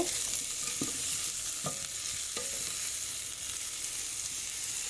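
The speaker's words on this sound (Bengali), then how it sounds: "ফুলকপিটা ভেজে নিতেছি" Cauliflower frying in a pan gives off a soft, even hiss of hot oil, broken by a few sharp spatula taps early on, close by with no speech.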